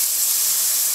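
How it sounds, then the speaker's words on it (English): Pan-fried dumplings hiss steadily and loudly as water is poured into a hot frying pan, a dense, even burst of steam and sizzle lasting about a second with no talk. "It's gonna sizzle really, really bad."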